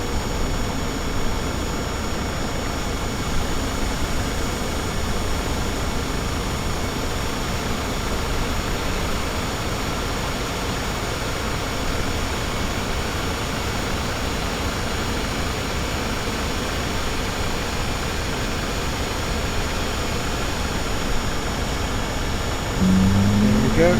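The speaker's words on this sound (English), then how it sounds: "starting engine number 2." An aircraft engine in Microsoft Flight Simulator 2020 runs as a steady, loud broadband roar with a faint high whine, holding constant for about twenty-four seconds with no clear spool-up.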